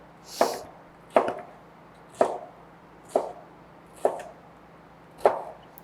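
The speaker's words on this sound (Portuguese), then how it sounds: "Então a gente corta em tiras primeiro e em seguida nos cubos." Bell peppers are cut into strips and then cubes on a board, six evenly spaced knife chops landing close and crisp, each with a sharp thud, and no talking.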